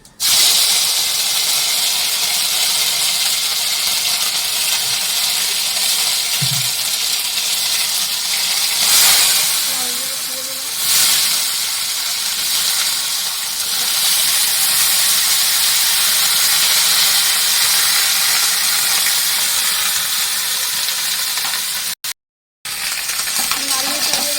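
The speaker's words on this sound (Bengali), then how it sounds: "রাঁধুনি ফোড়ন দিয়ে দিলাম" Radhuni spice tempering sizzling in hot oil for a dal with bottle gourd, a steady close crackling hiss running throughout with a few faint clinks, then a brief cut near the end.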